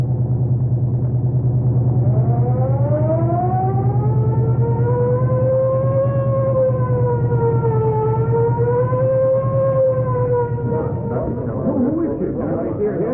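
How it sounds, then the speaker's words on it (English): A wailing siren rises and falls in long sweeping tones over a low engine rumble, loud and close, fading out near the end. "I'll crack the siren."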